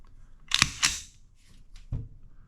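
A Beretta PX4 Storm 9mm pistol's firing mechanism snaps with two sharp metallic clicks close together, then a softer click a moment later.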